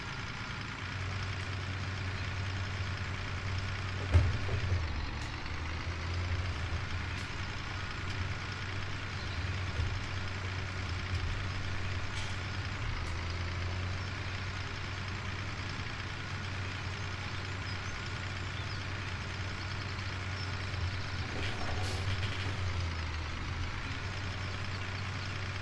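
A heavy truck engine in Farming Simulator idles with a steady low rumble for most of the stretch, with a brief sharp hiss near the start and a slight throttle rise later, no voices over it.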